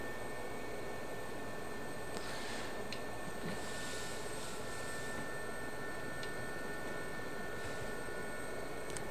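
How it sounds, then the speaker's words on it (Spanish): An SA342 Gazelle helicopter flies in the DCS World flight simulator, its steady, broadband rotor and turbine roar filling the cabin continuously at constant loudness, without speech. "Es muy sencillo de volar este helicóptero"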